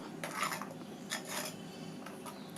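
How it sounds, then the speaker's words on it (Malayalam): Fish curry paste being mixed with coconut oil for a Kerala sardine curry, with soft scraping and light clinks of a utensil against a bowl in a few short bursts, close and fairly quiet. "ഇനി ഇതെല്ലാം കൂടി നല്ലതുപോലെ ഒന്ന് മിക്സ് ചെയ്ത് കൊടുക്കാം"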